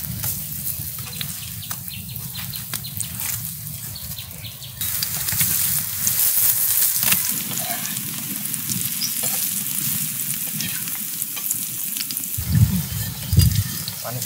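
Oil hits a hot wok in a village kitchen while an omelette burger with pakora is being made. A loud, steady sizzle and frying crackle runs throughout with stirring scrapes, swelling into stronger bursts near the end.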